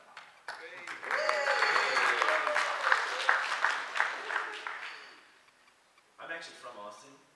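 Audience clapping at a live talk event swells into a dense, sustained round of applause lasting several seconds, then fades out before a speaker begins talking again.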